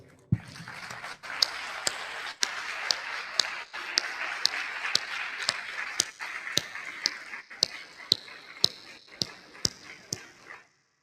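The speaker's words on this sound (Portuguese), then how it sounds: "uma salva de palmas ao Padre Herculano" A sustained round of audience applause for Padre Herculano, a dense wash of clapping with sharper regular claps standing out, which fades and stops near the end.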